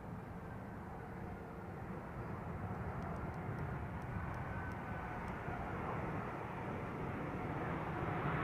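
An Airbus A380 arriving from Washington at London Heathrow Airport: a broad, steady jet engine roar that swells gradually and grows louder toward the end, with no talk.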